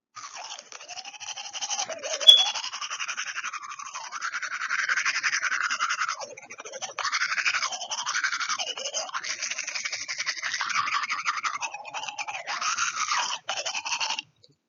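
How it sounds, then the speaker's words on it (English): A toothbrush scrubs teeth up, down and all around in steady back-and-forth strokes, close and clear throughout, with brief pauses between bursts. "began brushing up, down, and all around"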